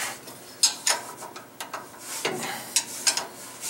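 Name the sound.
removing top bolt on Powermatic 27 shaper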